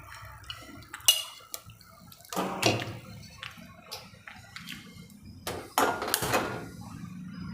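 A pan set down and ghee spooned into it in a home kitchen while cooking Gujarati karela shaak, heard as a few sharp clinks and scrapes of metal with soft drips and shuffles between, close by and without talk.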